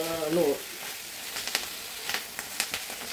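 Desert grass being sautéed in a pan, a soft steady sizzle with scattered small crackles and pops, preceded by a brief voiced sound at the very start.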